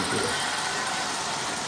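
A new motor in a Marx 6000 B dummy unit hums steadily while it pulls four 13-inch Lionel passenger cars, an even, close mechanical whir with a faint rolling rumble throughout.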